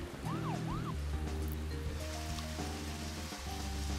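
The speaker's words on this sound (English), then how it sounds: "See this, like, rain effect?" Steady rain hiss fills a scene in the video game Deadly Premonition as a constant, even wash. Low droning music plays underneath, along with a brief warbling tone.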